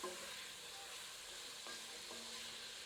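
Chicken pieces fry in a pan for a spinach chicken curry, giving a soft, even sizzle with faint stirring scrapes partway through, quiet and without speech.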